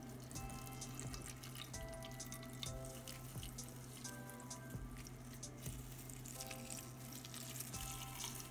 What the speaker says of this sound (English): gently pour some water over it.